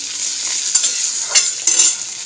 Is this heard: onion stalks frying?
yes